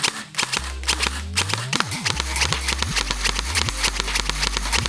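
An airsoft gun with a binary trigger fired in quick bursts, sharp rapid snapping shots in clusters over a low motor whir that rises and falls between strings.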